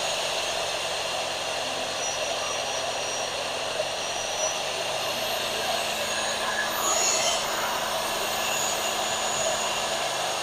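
A generator runs steadily at close range, driving a machine while its voltage and wattage are adjusted, giving a continuous loud mechanical whine and hum with no breaks throughout.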